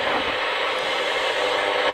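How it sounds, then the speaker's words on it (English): A radio gives off a steady broadband static hiss, as if tuned between stations. It is continuous and fairly loud, with no voices. "you can hear a bit of hiss in the background of that still"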